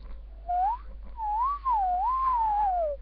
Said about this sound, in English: Can you hear that whistle?